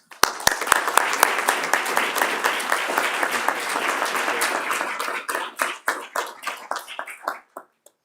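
Sustained audience applause welcoming a speaker at a Veterans Day ceremony at Drury University, loud and dense with many hands, swelling then breaking into scattered claps as it fades away near the end.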